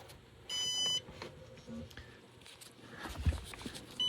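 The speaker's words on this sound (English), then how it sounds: "Now in a minute that beeping will stop." A Synology DS225+ NAS emits a steady electronic beep lasting about half a second after a hard drive replacement, followed by faint clicks and handling noises nearby.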